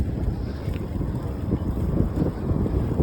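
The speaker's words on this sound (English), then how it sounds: "the wind is very strong" Strong wind buffeting the microphone while riding an e-bike outdoors, a loud, continuous low roar with gusty surges throughout and no clear speech.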